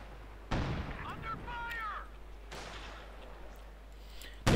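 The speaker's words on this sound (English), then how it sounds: "Anti-tank gun fire, light machine gun fire" Anti-tank gun and light machine gun fire in the strategy game Company of Heroes 2 sound as sharp booming blasts with decaying tails, the first loud and the others fainter, with whistling tones between them.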